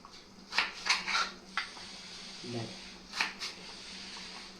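A knife chopping potatoes into strips for french fries, with several crisp cuts against a board in quick clusters, close and fairly quiet, with a person speaking throughout.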